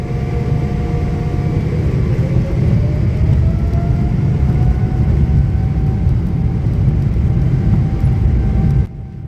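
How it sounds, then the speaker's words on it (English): Steady hum of ambient noise inside Taipei's airport: a constant broad engine-like drone with a faint tonal whine, unbroken for several seconds before cutting off abruptly near the end. "In this video we are passing through the airport of Taipei."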